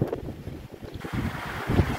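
Strong typhoon wind in Pasukin, Ilocos Norte, roaring in steady, loud gusts that swell and buffet the microphone with rumbling low-end bursts, no voices present.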